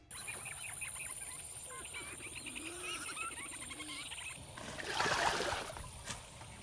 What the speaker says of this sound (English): On a quiet boat ride, birds chirp in the early morning, heralding the amazing grace of a new day.